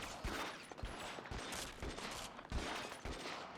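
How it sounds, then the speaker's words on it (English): Rapid gunfire crackles in bursts through a shootout in the L.A. Noire video game, sharp repeated shots heard at moderate distance. "Who's shooting us?"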